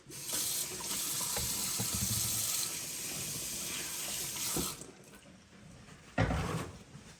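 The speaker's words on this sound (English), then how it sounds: "Wash my hands." A kitchen tap runs into a sink while hands are washed, a steady close water rush that softens, then ends with a brief splash near the end.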